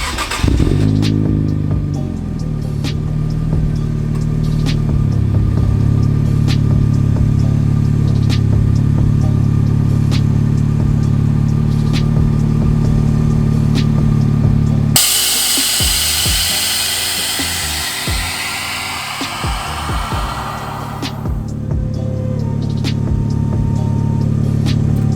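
An Infiniti Q50 with an Invidia exhaust cranks and fires up, settling into a loud, steady idle. Midway through, the exhaust flares into a brief higher rev before dropping back to idle.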